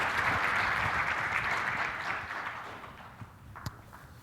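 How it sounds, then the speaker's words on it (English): Audience applause after a technical conference talk on logging API activity, a dense, steady clapping wash from a large hall that gradually thins and fades, with a couple of isolated late claps near the end. "Please give a big round of applause for Steve."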